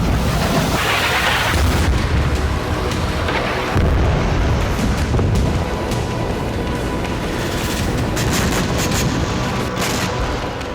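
Israeli air strikes hitting Beirut make a loud, continuous roar of blasts and deep rumbling that rolls on throughout, with heavier booms surging every few seconds and no voices.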